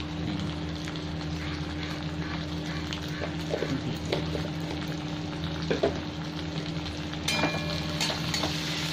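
Chopped tomatoes with salt fry in a pan, giving a steady low sizzle with occasional soft stirring clicks, close and fairly quiet over a constant background hum, with no talk.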